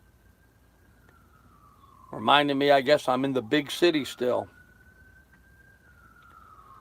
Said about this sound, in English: there's a police siren or fire siren going on.